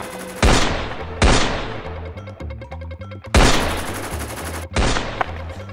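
Four heavy gunshots from a weapon, each a loud sharp blast with a long decaying tail, spaced about a second apart over a steady background with music-like tones.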